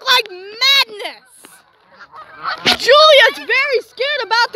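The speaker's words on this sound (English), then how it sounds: "honk like madness" Several pet geese honk loudly and agitatedly at close range, in bursts of harsh repeated calls, with overlapping voices and a brief lull in the middle.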